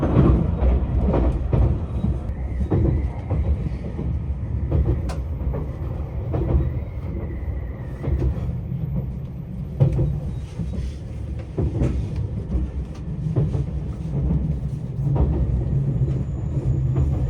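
A JR West 273 series limited express Yakumo train runs past the Okayama freight terminal, with a steady close rumble and faint rhythmic rail clatter that holds for the full stretch.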